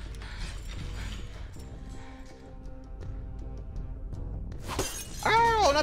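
Glass shattering in a TV drama scene, a sharp bright crash near the end rising over a dense bed of music and mechanical ambience, with a rising tonal sound trailing after.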